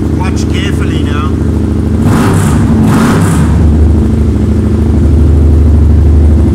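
Yamaha MT-07 motorcycle engine held at a loud, steady rev close by, with a rising surge partway through, while someone talks over it.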